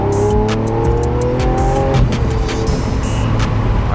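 A Lamborghini with a 7-speed Graziano transmission driving hard and downshifting, its loud close engine note dropping in pitch through gear changes with sharp crackling blips between shifts, heard alone without talk.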